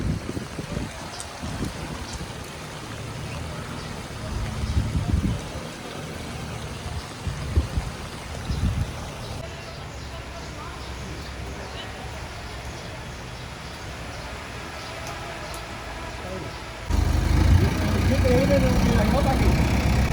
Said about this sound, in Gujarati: આ બુલ્ડોઝરથી પાણી કાઢે છે અત્યારે